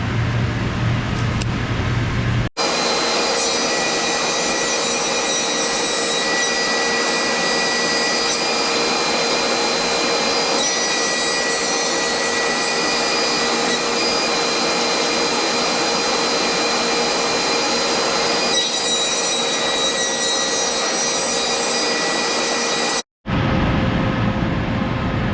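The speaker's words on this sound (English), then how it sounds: "set my planer to that size, and run them through to get the other side" Wood boards for a bench seat feed through a thickness planer, giving a loud, steady roaring whine with a broad hiss that starts abruptly, holds for about twenty seconds, then cuts off.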